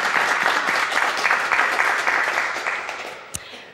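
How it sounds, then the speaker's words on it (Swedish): Studio audience applause on a Swedish Bingo-Lotto television show, a dense, steady wash of many hands clapping close and loud for about three and a half seconds before thinning out, with one sharper clap near the end. "Stor applåd då Robin får en kram."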